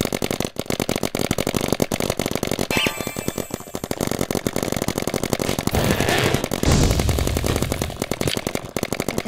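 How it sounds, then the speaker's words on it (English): Rapid bursts of paintball gun fire popping in quick succession outdoors during a paintball game, loud and close, with continuous crackling shots and no talking. "I'm just gonna shoot something over there."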